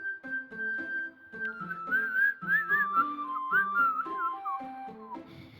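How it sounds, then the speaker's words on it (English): A person whistles a wavering, breathy tune, soft and close, over quiet game music. "Trying to whistle, don't know if I actually am or not."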